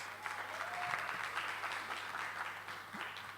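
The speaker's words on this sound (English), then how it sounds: "a round of applause to our top 15 finalists" An audience at a startup pitch competition applauds its top 15 finalists, dense, even clapping that holds at a steady level from start to finish with no talk over it.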